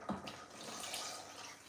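Water pours from a tap or vessel into a cooking pot for peanut soup with smoked catfish in a home kitchen, a short, soft, continuous splashing rush heard alone.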